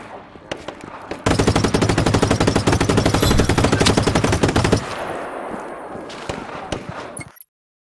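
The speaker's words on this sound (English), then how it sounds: "Gunfire!" Rapid automatic gunfire in the video game Just Cause 3 rattles loudly in a sustained burst after a few single shots, then fades into scattered distant shots and echoing noise.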